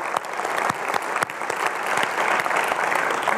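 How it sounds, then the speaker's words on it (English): An audience at a liberal arts and STEM panel event gives a sustained round of applause, many hands clapping densely with a few sharp, closer claps standing out, loud and steady throughout. "I just want to give you a big round of applause."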